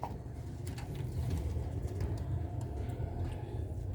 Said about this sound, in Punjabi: ਵੇਖ ਲਓ ਤੁਹਾਡੇ ਸਾਹਮਣੇ ਕਬੂਤਰ ਸਹੀ